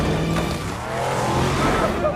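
Several off-road cars arrive in an action film scene, with a steady loud engine rumble and tire noise running throughout, and a voice mixed in.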